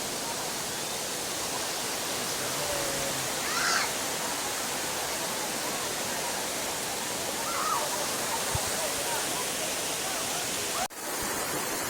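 Steady broadband rush of water pouring over Bolinao Falls, a continuous even roar filling the whole clip with no speech, apart from a few faint brief knocks.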